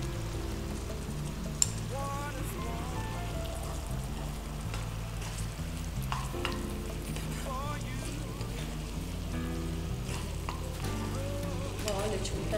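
Bottle gourd halwa being stirred in a pan with ghee-fried cashews and raisins mixed in, a steady soft sizzle and scraping that runs the whole time, with faint background music under it.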